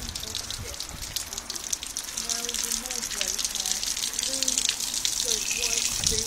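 Water gushes steadily from a hose through homemade guttering rigged as a car wash, with a continuous splashing rush beneath a voice talking over it.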